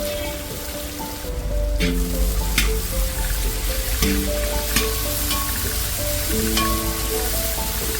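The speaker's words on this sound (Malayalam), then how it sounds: "ഇനി ഇതിൻ്റെ അകത്തേക്ക് വളരെ നൈസായിട്ട് അരിഞ്ഞു വെച്ചിരിക്കുന്ന സവാള ഇട്ട് കൊടുത്ത് നല്ലപോലെ ഒന്ന് ഡീപ് ഫ്രൈ ചെയ്തെടുക്കാം" Finely sliced onions deep frying in oil, a loud, close, bubbling sizzle that rises after a quiet start and keeps a dense crackle, with scattered scrapes and clinks of a utensil.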